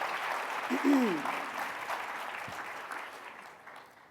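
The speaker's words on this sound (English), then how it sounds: "Can we give him a round of applause, please?" Audience applause at a civil rights conference session, a steady wash of clapping that fades gradually, with a brief spoken word over it.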